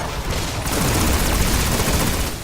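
Sustained pulse rifle fire in the video game Destiny, a dense loud volley of rapid shots with booming impacts, continuous and alone with no talk.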